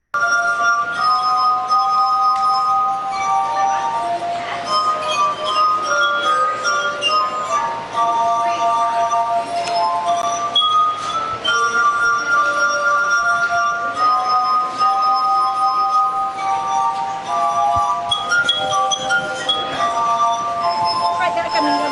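Glasses holding different amounts of water played like a glass harp, ringing out a continuous melody of clear, sustained glassy tones at shifting pitches with soft clinks, steady and close without pause.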